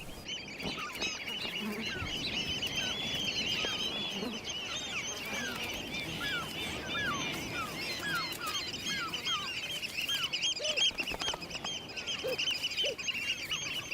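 Wading birds on a beach give repeated short, high calls in quick overlapping bursts, fairly distant and soft against a low background hum, scattered across the whole stretch.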